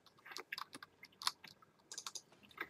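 Doritos tortilla chips are chewed close to the mic, giving a run of crisp, irregular crunches and bites in quick bursts with short gaps between. No voices are heard.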